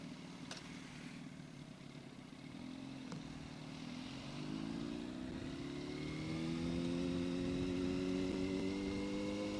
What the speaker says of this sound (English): Besides the clutch noise.